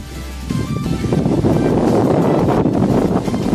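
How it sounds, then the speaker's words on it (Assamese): Wind blows across open village farm fields, buffeting the microphone in a continuous loud rush with gusty swells and no clear voices. "এতিয়া বতাহ ওলাই আছে"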